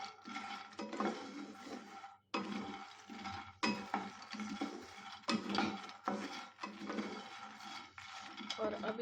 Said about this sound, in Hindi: ऐसे ही करके ना मैं मखाने रोस्ट कर लेती हूँ धीरे धीरे